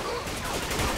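Dense burst of video game gunfire, rapid overlapping shots in a short, loud volley.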